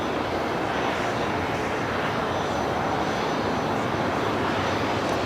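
Heavy jet airliners arriving at LAX in Los Angeles, a loud, steady roar of aircraft engines that fills the whole stretch with no pauses or talk.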